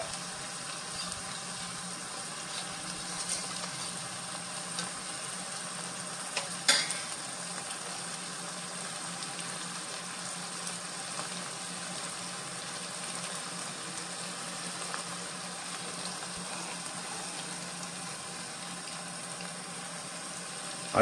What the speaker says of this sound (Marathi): पाणी घालून